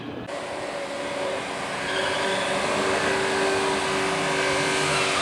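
A Ford Mustang drag racing car roars down the strip at a drag racing event, a loud, sustained engine blare building steadily over several seconds.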